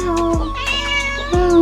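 A hungry cat meows loudly and close by, two drawn-out cries with softer sounds between them and no talking.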